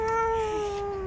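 A single drawn-out cat meow in a park, loud and close, with a steady tone that slowly drops in pitch.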